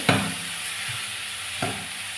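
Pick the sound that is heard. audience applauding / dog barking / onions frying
onions frying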